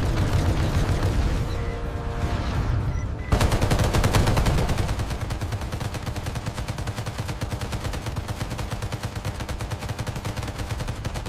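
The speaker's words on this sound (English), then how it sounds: "CIWS engaging. Full auto." A destroyer's CIWS close-in gun in a naval combat video game fires full auto at incoming missiles, a loud continuous rapid burst that begins suddenly a few seconds in and roars steadily to the end, following a rumbling explosive opening.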